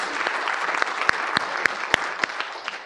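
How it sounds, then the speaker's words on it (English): An audience at a storytelling talk gives a round of applause, a fairly quiet patter of clapping with several sharper individual claps standing out near the listener. "Big round of applause for Leslie."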